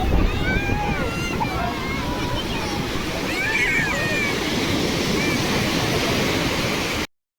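Strong sea waves at Puri beach roar and wash in a steady, loud broadband rush of surf that fades out abruptly at the end. Voices can be faintly heard amid the noise.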